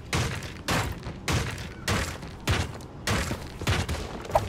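Video game gunfire in Creative Destruction: seven evenly spaced bursts of shots, each a loud thumping volley about half a second apart, with faint background game noise between them.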